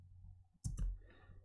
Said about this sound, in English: we directly press Ctrl Enter on the keyboard